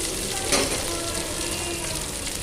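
Mustard seeds, shallots and red chillies fry in hot oil, a continuous close sizzle with a brief crackling pop of seeds near the start, no voices.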